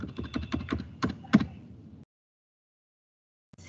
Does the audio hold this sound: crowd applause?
no